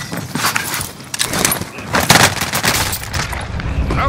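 Sustained video-game gunfire crackles in dense, overlapping bursts throughout, loud and close, with a few sharper shots standing out among the steady volley.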